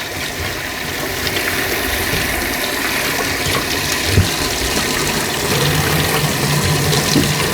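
Steady running water pours over shrimp tank substrate as it is rinsed, a continuous close-up rushing wash that holds an even level from start to finish, with no speech.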